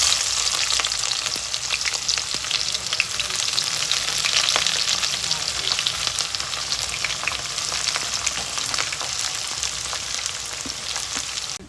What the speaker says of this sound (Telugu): ఆయిల్ హీట్ ఎక్కాక ఇప్పుడు ఈ మసాలాస్, ఆనియన్స్ అన్నీ ఇందులో వేస్తున్నాను